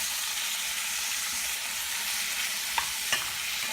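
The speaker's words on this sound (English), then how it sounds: "Just give it a stir." Pepper shrimp and seasoning stirred in a hot pan, a steady frying sizzle with a couple of brief scraping clinks from the spoon near the end.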